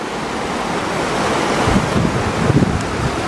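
Floodwater from a swollen river rushing in Morocco after heavy rain, a steady loud roar of churning water with gusty wind noise and a few splashing surges toward the end.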